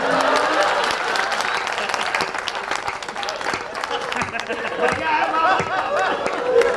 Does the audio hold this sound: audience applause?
yes